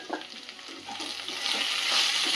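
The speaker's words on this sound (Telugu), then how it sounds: "అప్పుడు బెండకాయ మంచిగా ఫ్రై అవుతుంది." Okra (lady's finger) frying in a pan while being stirred, a hissing sizzle with soft scraping stirs that swells louder toward the end, with no voices.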